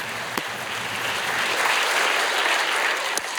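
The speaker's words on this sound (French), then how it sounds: "Moi aussi, j'applaudis." A comedy club crowd at a Québécois stand-up show breaks into steady, full applause that holds an even level for several seconds, with a few sharper claps standing out near the start and end.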